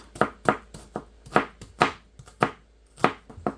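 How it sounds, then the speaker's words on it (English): A white onion being chopped with a knife on a cutting board, giving about a dozen crisp, evenly spaced knife strikes close by, with no voices. "This is just a good old white onion here. We're going to chop it up and see how much we've got to work with."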